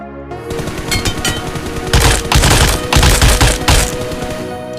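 Gunfire in the mobile game PUBG Mobile, loud sustained automatic bursts with rapid repeated shots, several spray bursts back to back filling the clip, with no talking.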